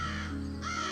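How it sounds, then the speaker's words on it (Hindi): A crow caws loudly and close by, one harsh drawn-out call with a second caw following, heard alone. "जोर से काव काव करता उड़ा"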